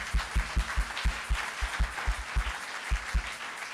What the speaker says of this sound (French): Est-ce que nous pouvons encore acclamer une fois?